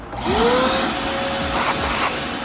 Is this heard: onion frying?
no